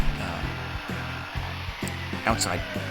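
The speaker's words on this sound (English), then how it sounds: "I do most of my cutting with the jigsaw just with a piece of wood over a garbage can" A jigsaw cuts out a wooden Santa face held over a garbage can, making a close, buzzing motor drone with regular pulsing surges as the blade works.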